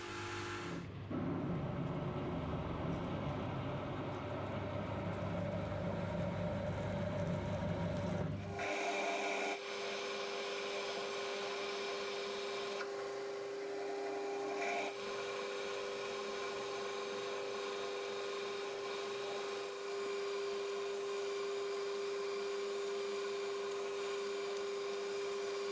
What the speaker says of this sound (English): Coolant on. Pump's getting pretty rattly on the coolant.